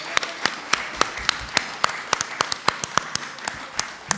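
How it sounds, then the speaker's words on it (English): Applause for the fire department at a village board of trustees meeting, a moderate crowd clapping with distinct, sharp individual hand claps in an uneven rhythm, close and fairly loud throughout. "let's give a round of applause for our Dolton Fire Department"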